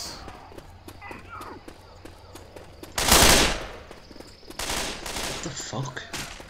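Frag-round gunfire in Left 4 Dead 2 erupts in loud, dense bursts, the first a short intense volley and a second longer stretch of rapid shots, over quieter game background.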